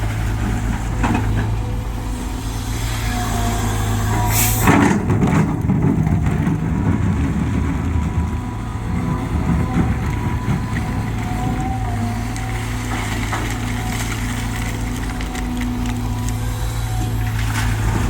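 Caterpillar CAT 320 GC Next Gen four-cylinder excavator digging a large, deep pond in rocky ground: a steady, loud diesel drone with a hydraulic strain that swells midway, plus clanks of the bucket against rock.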